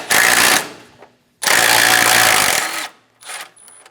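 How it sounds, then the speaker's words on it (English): A power ratchet or impact tool spins out 10mm bolts on the condenser brackets of a 2013-2017 Honda Accord, two loud rattling bursts separated by a pause, then faint clicks. "Remove the 10mm bolts for the top condenser brackets."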